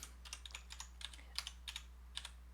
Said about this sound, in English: let's just begin typing